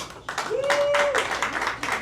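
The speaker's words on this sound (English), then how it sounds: "by round of applause, please only vote loudly for the one you genuinely want to watch us do" A live theatre audience claps loudly to cast a vote, the applause rising from a lull into dense, sustained clapping mixed with a few voices and a brief whistle-like tone.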